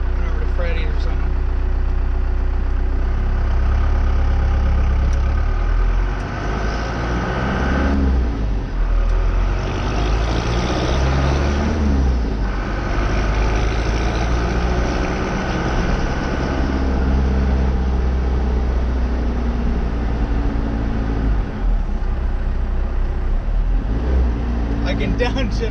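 Inside a 4x4 truck with a swapped-in 5-speed manual transmission, a loud engine drones continuously during a drive around the block, rising and falling with shifts while a person talks over it.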